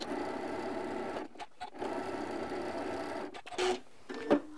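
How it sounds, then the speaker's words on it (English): A sewing machine stitching fabric for an improv flower quilt block, a steady close mechanical whir in runs with brief pauses and small clicks between them. "And more stitching."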